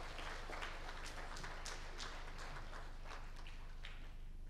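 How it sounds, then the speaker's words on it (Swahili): An audience at a press freedom conference in Arusha claps continuously. The applause is faint and distant, with scattered individual claps inside a steady wash of sound. "Naomba wakati anakwenda kukaa tuongeze tena makofi ya kutosha."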